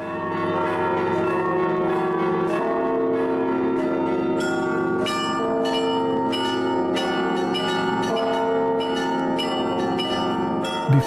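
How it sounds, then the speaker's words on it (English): Church bells of St. Michael Cathedral ringing an alarm, a continuous dense peal with overlapping strikes. The ringing grows busier and louder partway through and carries on steadily with no voices. "the bells of St. Michael Cathedral alarmed for the first time in almost 800 years."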